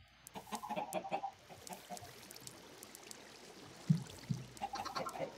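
Chickens in the Minecraft video game cluck in short repeated bursts at moderate level, with a watery stream-like background and a couple of soft thumps.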